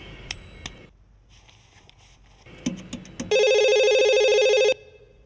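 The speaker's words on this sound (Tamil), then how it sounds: "2 ரிங் ஆகுது, எடுத்தா கட் ஆகுது." A telephone rings in a sustained electronic trill lasting over a second, preceded by scattered clicks and knocks in an otherwise quiet room.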